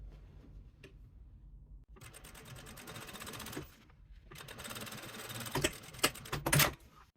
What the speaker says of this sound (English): we will top stitch right here, right there